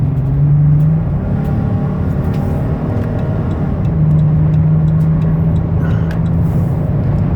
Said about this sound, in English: I want to take it out on the highway so you can hear the engine run and the transmission shift